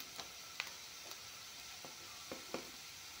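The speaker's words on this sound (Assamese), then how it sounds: "এতিয়া এইখিনি অলপমান ভজা গৈছে।" Ingredients for a pumpkin recipe frying in a pan, a soft continuous sizzle with a few faint clicks of stirring, quiet and close with no voices.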